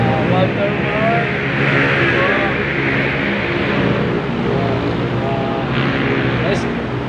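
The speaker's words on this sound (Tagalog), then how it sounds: "ito po yung highway" Steady roadside highway traffic roar in the Philippines, continuous engine and tire noise from vehicles passing close by, with a person talking over it throughout.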